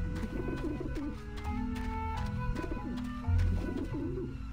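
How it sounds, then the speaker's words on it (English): Pigeons coo in Grim Fandango, several soft throaty rolling calls repeating in rhythm over a steady ambient game background. "Ugh, pigeons."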